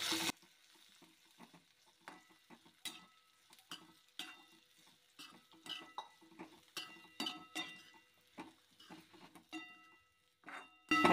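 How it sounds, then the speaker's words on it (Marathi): Cluster beans are stir-fried with crushed garlic and peanuts in a pan, giving a soft sizzle with repeated clinks and scrapes of a spoon stirring at a steady pace. "छानपैकी आपण परतून घेऊया।"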